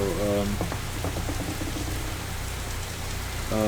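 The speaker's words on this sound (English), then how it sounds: "rain's kind of deterring everything right now" Heavy, steady rain hisses loudly and continuously on a surface, a dense close wash of drops, with a voice briefly audible at the start and end beneath it.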